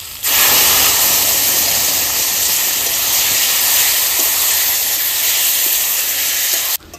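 Spiced water poured over taro frying in a pan, flavoured with chilli, cumin and ginger paste, sets off a loud, steady rush of steam and hissing sizzle that lasts several seconds before cutting off abruptly.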